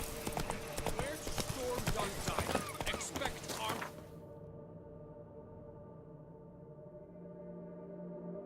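Rapid clip-clop of horse hooves galloping in The Witcher 3: Wild Hunt, busy and fairly close for about four seconds before cutting off to quiet background ambience.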